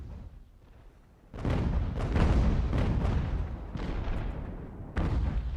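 Continuous rumbling battle din from a video game set in the American Revolution: massed musket volleys and booming artillery blend into a dense, loud roar, with fresh bursts of fire swelling in partway through.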